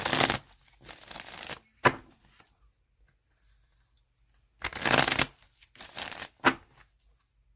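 A tarot deck being shuffled by hand in close, crisp bursts: several riffling flutters separated by silent gaps, each lasting about a second.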